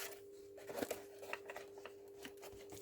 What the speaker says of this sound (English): but that's what we have scissors for